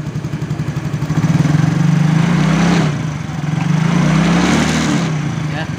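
A Yamaha X-Ride motorcycle engine revs up twice from idle, its loud, close mechanical note rising and falling. A rattling, ticking noise runs through the engine sound with each throttle blip.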